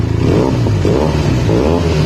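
A Benelli TNT 300 motorcycle with an IXIL X60 exhaust fitted with a dB killer idles with a loud, steady exhaust rumble, rising in brief revs, close by with no talking.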